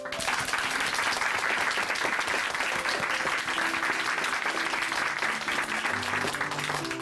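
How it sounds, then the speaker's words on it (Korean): A church congregation applauds in thanks after a testimony, sustained dense clapping filling the room at steady strength, with faint tonal notes of music or instruments showing underneath toward the end. "다시 한번 감사의 박수 부탁드립니다"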